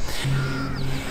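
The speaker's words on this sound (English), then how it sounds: "The only sounds you hear are of birds." Crows cawing on Bainbridge Island, a quiet ferry-reachable island near Seattle: a sustained harsh call stands out over a steady outdoor background, fairly close and clear.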